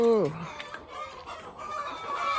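A rooster's crow trails off at the start, followed by continuous clucking from a crowd of hens on a layer farm at dawn, with a faint murmur of background activity.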